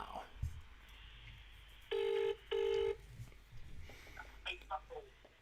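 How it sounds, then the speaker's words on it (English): Two steady touch-tone dialing beeps on a telephone, each held about a second with a short gap between them, sounding over a quiet room with faint background noise and brief murmurs of speech around them. "we are going to give this good motherfucker a phone call right now"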